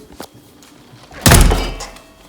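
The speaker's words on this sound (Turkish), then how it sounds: "Kapı kapandığına göre" An indoor door swings shut with a single loud, heavy thud partway through, followed by a short decaying rumble, after quiet room sound.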